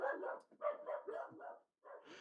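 Small dogs barking in Polygon Pilgrimage, a cute collectathon platformer: a quick run of close, yappy barks and yips with one short pause before a final burst, no other sounds.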